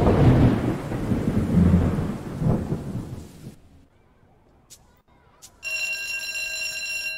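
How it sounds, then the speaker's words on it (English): Rain and thunder from the IFSCL video game: a loud rumbling roll of thunder over steady rain that fades to near quiet, after which a ringing electronic alarm-like tone starts. "Still raining."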